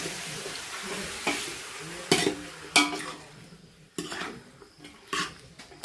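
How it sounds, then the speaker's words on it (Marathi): Marinated chicken stirred in hot oil in a pot: a continuous sizzle broken by several distinct scraping clanks of a utensil against the metal pot, spaced irregularly, close and fairly loud. "तेल तापले चिकन चांगलं हलवून घेतो"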